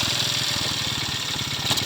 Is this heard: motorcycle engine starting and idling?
yes